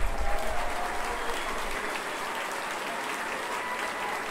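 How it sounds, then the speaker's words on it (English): An audience applauds young volunteers at a political rally with Yeo Bee Yin, steady dense clapping that starts loud and holds at an even level throughout. "Can we give them a round of applause?"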